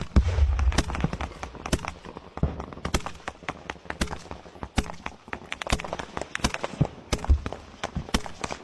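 Gunfire in an ongoing firefight in Ukraine war footage: many sharp, irregular shots and bursts crack out at varying distances, some loud and close, others fainter, against background rumble.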